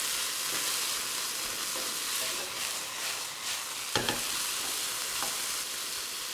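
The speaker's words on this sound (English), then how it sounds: "Already I can tell that my wok temperature is dropping because the sizzling isn't as fierce as it was." Noodles stir-fried in a hot wok give a steady, loud sizzle with scraping and tossing bursts of stirring, and a sharp clatter near the four-second mark.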